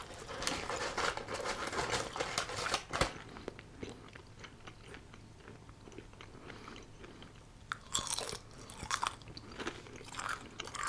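Close, crunchy biting and wet chewing of a Dunkin' pancake wrap with real bacon, with irregular bites and mouth sounds in a quiet setting, a sharp crunch near the start and a louder burst of chewing later.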